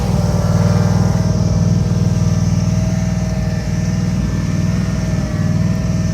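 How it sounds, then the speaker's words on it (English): Starter motor on a Bolens Ride-a-Matic riding tractor cranking steadily with a loud, continuous low whirring hum and no catch, close up and uninterrupted. "Starter still spins."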